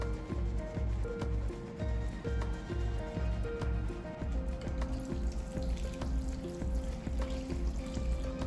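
Water from a tap runs and splashes steadily while a textile printing stamp is soaked and washed with a sponge and detergent water, a continuous close pour with no speech.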